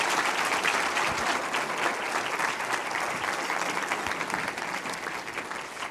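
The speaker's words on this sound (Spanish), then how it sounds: "Démosle un aplauso." A congregation applauds at a Sunday church service, steady dense clapping that fills the room for the whole stretch and never lets up, with no voices rising above it.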